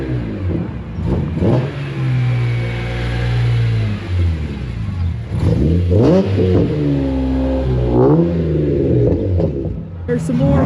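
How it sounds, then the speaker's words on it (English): A FedEx delivery truck rolls past at a spring car show, its mid-range engine rumbling and revving steadily up close, with people talking over the passing vehicle. "The FedEx truck has joined the River City Ripper Spring Social Car Show."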